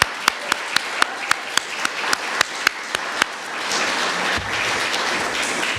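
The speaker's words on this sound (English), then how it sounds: "So round of applause to everybody this time." Scattered single claps ring out in a steady rhythm, then build into fuller applause from a modest crowd at a Medicare for All town hall, fairly faint and indoors.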